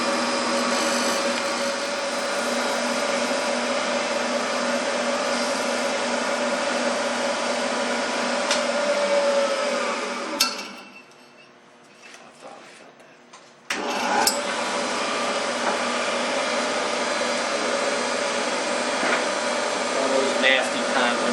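Steady whirring hum of a wood lathe spinning a wooden crochet hook during sanding, loud and continuous, dropping briefly to near quiet midway before the machine noise resumes at full level.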